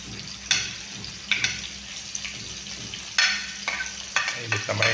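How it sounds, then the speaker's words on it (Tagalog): Onion hits hot oil for a sauté, sharp sizzling bursts rising and fading with stirring clatter between them, close and fairly loud. "ilagay na yung sibuyas. Magigisa na tayo."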